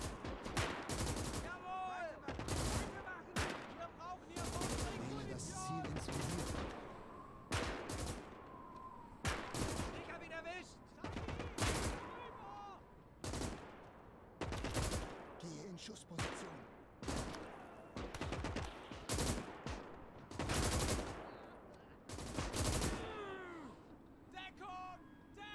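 Repeated sharp rifle and machine-gun shots ring out in the WWII game Gates of Hell: Ostfront during a German campaign battle, coming in irregular bursts for the whole stretch while someone talks over them.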